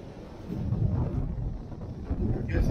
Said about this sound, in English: Lord, it's windy.